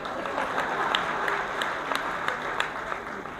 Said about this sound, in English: So a big round of applause to him.